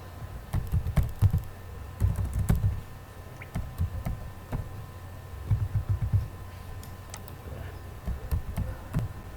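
Name and password being typed on a computer keyboard during a Solus Linux OS installation: bursts of soft, close key clicks in uneven clusters, with short pauses between runs of keystrokes.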